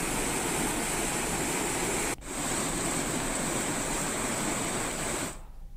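Floodwater after heavy rain flows across a causeway in Rajasthan, a loud, unbroken rushing roar that briefly dips once before cutting off at the end.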